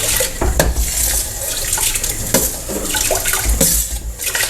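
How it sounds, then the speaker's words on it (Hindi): Water splashes loudly into a cooking pot (degchi) for boiling rice for sweet zarda, a close, continuous gushing pour with uneven surges and spattering bursts and no talking. "देगची के अंदर पानी ऐड करने के बाद मैंने चावल डाल दिए।"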